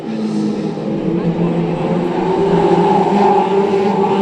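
Brisca F2 stock cars racing around the oval at Cowdenbeath Racewall, their engines droning steadily and loud throughout, with a race commentator's voice running over the engine noise.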